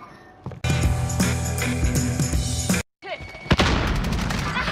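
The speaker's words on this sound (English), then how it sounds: "That's grenade." Loud booming blasts and heavy concussive bursts in a shooter game, a long thunderous stretch that cuts off abruptly, followed by another sharp explosion a moment later.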